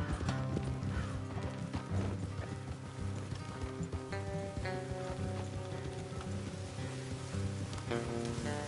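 Horses' hooves clip-clop in the video game Red Dead Redemption 2, heard faintly beneath a loud bed of game music with sustained tones and rain-like hiss.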